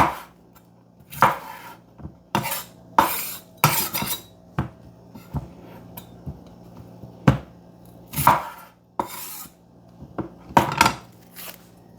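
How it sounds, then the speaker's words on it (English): A knife chops an onion on a cutting board for Jamaican brown stew chicken. About a dozen sharp, close knocks come in uneven bursts with short pauses between them, and no voices are heard. "So we're gonna dice this onion really small,"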